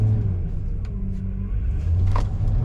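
A 2025 Chevy Silverado 2500 HD pickup with the 6.6L gas engine revving at full throttle while accelerating from a stop, a steady deep rumble with rising drone and road noise heard from inside the cab.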